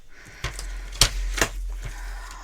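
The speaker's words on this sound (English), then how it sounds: "Now we're just going to cut this out using our trimmer" A paper trimmer slicing through card, a few sharp clicks and snaps of the blade spread over a couple of seconds, close and fairly quiet with no talk.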